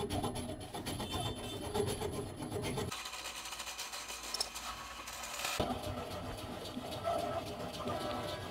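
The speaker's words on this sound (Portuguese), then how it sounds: "E agora eu vou usar uma broca de 90, tá?" A large 90 mm drill bit bores into wood on a lathe while a wooden bowl is turned. It makes a continuous rough, rasping grind that shifts in tone partway through and stays steady at moderate loudness.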